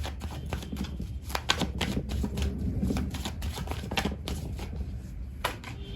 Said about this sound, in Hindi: सो मैं कार्ड शफल करती हूँ